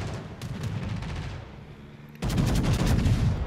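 A naval gunfire salvo booms in World of Warships, a loud deep rumble that drops briefly and then surges into a heavier blast with a low roar.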